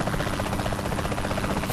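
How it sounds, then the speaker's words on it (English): A helicopter in the video game Saints Row The Third whirs with a steady, dense rotor buzz, close and loud for a short stretch with no talk. "A helicopter."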